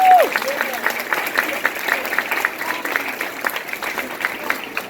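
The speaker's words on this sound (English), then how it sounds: "So why don't you give yourselves a round of applause?" Graduating students at an elementary school ceremony applaud themselves in a hall, a dense steady clapping from a large group, with a brief voice at the start and crowd noise mixed in.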